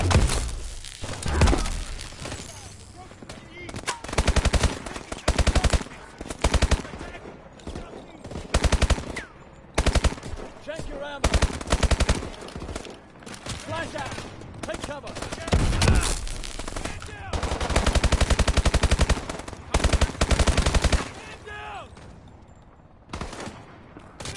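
Loud, rapid automatic gunfire from the Call of Duty: Advanced Warfare shooter game, long bursts broken by short pauses, mixed with explosions and chaotic in-game combat noise.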